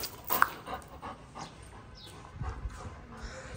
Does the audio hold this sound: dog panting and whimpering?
yes